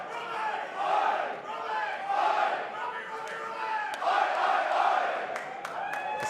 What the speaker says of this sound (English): The crowd love him back.